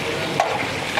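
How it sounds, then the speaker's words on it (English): Onions and lamb fry with turmeric in a pot, giving a brief sizzling hiss with a soft stirring scrape near the middle. "The turmeric hitting the onions"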